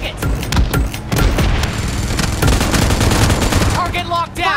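Continuous rapid gunfire from a weak gun in PUBG Mobile team deathmatch, loud bursts and shots running throughout with game effects at the end.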